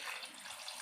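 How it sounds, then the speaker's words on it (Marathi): Water splashes steadily into a pot of washed potatoes in a short, faint, continuous pour. "आता आपण पाणी टाकून घेऊया"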